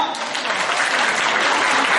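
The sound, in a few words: seminar audience applause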